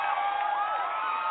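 A crowd cheers and whoops, many overlapping voices merging into one loud, sustained roar over a brief moment.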